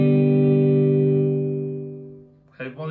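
Harley Benton SC-450 Plus electric guitar, a sustained chord ringing out close and loud, slowly fading as the volume knob is turned down, followed by a brief voice at the end.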